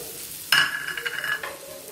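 Onions fry in a pan with a sudden sizzle and stirring scrape that lasts about a second, set against a soft kitchen background hiss.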